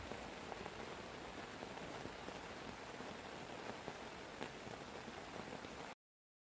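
Heavy rain pours at a gravel pit lake in a dense, steady hiss that holds at the same level throughout and then cuts off abruptly.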